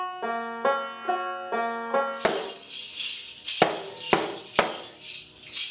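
A banjo picks a forward roll pattern, a bright rhythmic run of plucked notes that gives way to sharper strummed or struck accents at a steady pulse, close and clear with no talking.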